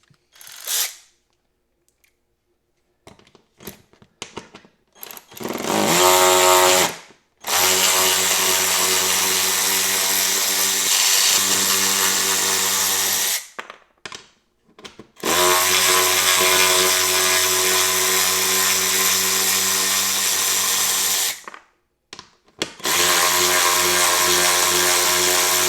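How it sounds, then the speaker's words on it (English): A Ryobi 4V lithium cordless 3/8-inch ratchet removes bolts in several long motorized whirring bursts, loud and close, with short gaps and clicks between runs. "Let's see how this one does it taking them out."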